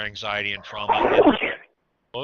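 A single sharp sneeze bursts out in the middle of a woman's spoken phrases during an online anxiety-tapping workshop, followed by a brief silence before talk resumes.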